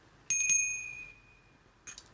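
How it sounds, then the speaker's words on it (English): A small hand bell gives a bright, close ring that lingers into a clear fading tone, then a second shorter ring follows near the end in an otherwise quiet room. "I got the bell."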